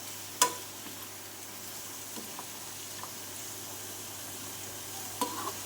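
Mushrooms seasoned with pepper powder sizzle steadily in a pan on low heat, with a few sharp scrapes and clinks of stirring; close, with no talk.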